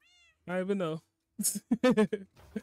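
A cat in a video game meowing once in a drawn-out, wavering call, followed by someone talking in close, clear speech.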